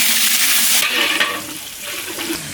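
Chopped onions go into hot oil in a pan while cooking a Bengali catla fish kalia, producing a loud, close, dense sizzle that flares at first and then settles into a steady hiss with no voices.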